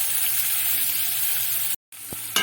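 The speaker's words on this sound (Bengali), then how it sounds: "করলাগুলো বেশ লাল লাল করে ভেজে নেব।" Bitter gourds fry in a pan with a loud, steady sizzle that cuts out briefly, then resumes with a utensil clink and a final scrape.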